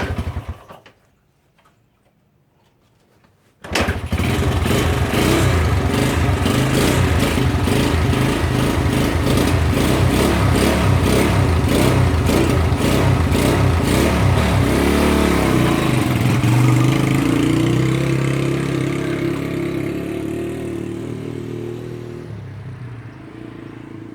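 A Honda XL125 motorcycle that had sat in a barn for 33 years starts up after a short quiet pause, then runs loud and close with repeated throttle revs, settling toward a steadier idle near the end.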